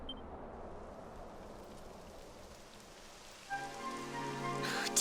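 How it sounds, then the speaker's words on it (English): Steady rain from the video game Dragon Quest XI patters on surfaces as a soft continuous hiss, with a brighter tonal game sound entering near the end; no voices. "It would have to go and start raining, wouldn't it?"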